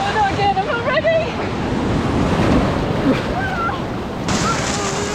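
Sea waves wash and break on a beach in a continuous rushing roar with wind buffeting the microphone, while people talk and shout over the surf.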